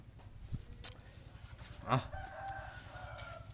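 A village chicken lets out brief clucks and a short call outdoors, a few scattered sounds over faint background noise with no talking.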